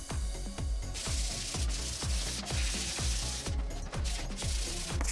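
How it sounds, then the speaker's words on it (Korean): Close, steady sanding of the hard plastic shell of a PlayStation 5 with 600-grit sandpaper, regular rasping strokes repeating roughly twice per second with no talking. "마지막은 600방 사포로 마무리하겠습니다"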